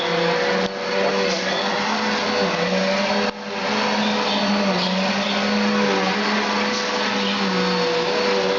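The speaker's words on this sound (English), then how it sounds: "I just love vacuuming up fur feathers in the morning" A vacuum cleaner runs loud and steady, close up, as it sucks up pet fur and feathers indoors, its whine broken by a brief dip partway through.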